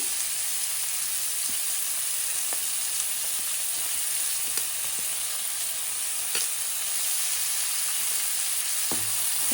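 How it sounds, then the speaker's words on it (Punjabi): Finely chopped onions sizzling in a pan with cumin, a loud steady frying hiss throughout with occasional light taps of a stirring spoon. "ਪਿਆਜ਼ ਭੁੰਨਾਂਗੇ ਪਹਿਲਾਂ ਅਸੀਂ ਪਿਆਜ਼ਾਂ ਦੇ ਥੋੜਾ ਜਿਹਾ ਭੁਜਨ"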